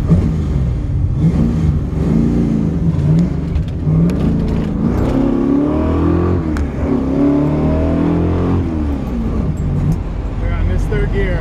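A 1969 Camaro X11 muscle car pulls away hard from a standstill. Its engine rises through revving gear pulls with shifts between them, heard loud and close from inside the car, with a voice talking briefly over it.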